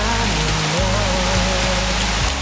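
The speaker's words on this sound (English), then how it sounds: "But that kind of rain, I think it's slow, it goes away." Light rain falls steadily in a forest, a dense even patter close by with no pauses, while low steady tones hum underneath.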